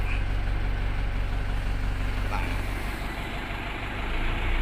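A Mitsubishi Canter PS 136 medium bus engine idles steadily just after starting, a close, continuous low diesel rumble that stays even throughout, with no talk over it.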